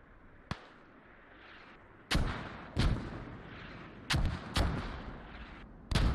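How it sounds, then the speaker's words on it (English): Mortar rounds in a tactical shooter game land in a series of five or six sharp, loud booming impacts at irregular intervals, each with a short decaying rumble, preceded by one faint distant crack. "I think the mortars are actually going for the radio."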